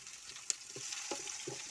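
Garlic and onion frying in oil in a pan, a soft, quiet sizzle with a few light scrapes and taps close by over a short stretch.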